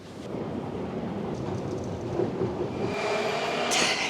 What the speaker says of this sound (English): We'll just have to use the metro right behind me.